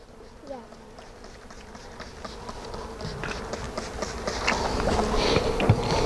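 A honey bee swarm being smoked out during a removal gives off a dense, continuous buzzing that grows steadily louder and closer, with people talking over it.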